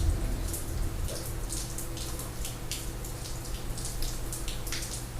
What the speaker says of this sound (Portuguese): Começou uma chuvarada aqui